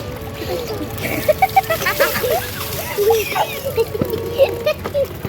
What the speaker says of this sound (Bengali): বুনু তো ছোট, তাই বুনুকে আমি আগে চান করিয়ে দেবো।